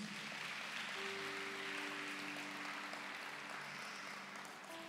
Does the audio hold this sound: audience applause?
yes